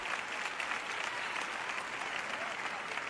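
Audience at a church ministry gathering applauding, a dense, steady wash of clapping from a large crowd, sustained and even across the moment.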